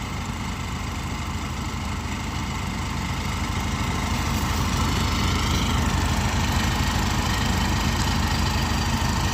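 A tractor-powered mustard thresher runs on a farm in Chitrod, Vagad, Kutch, its engine giving off a loud, steady, unbroken drone with a rough mechanical rattle throughout, and no voices.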